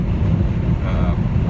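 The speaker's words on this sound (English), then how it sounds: "Neil Carlson here on a very windy Monday morning commute." Strong wind gusts roar across a microphone on Highway 2 between East Grand Forks and Crookston on a windy morning commute, a dense, steady buffeting rumble with no break.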